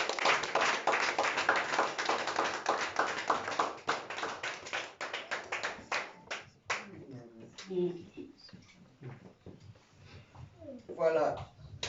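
A church congregation applauds during worship: dense, steady clapping fills the first six seconds, then thins out into scattered claps as a voice speaks over it.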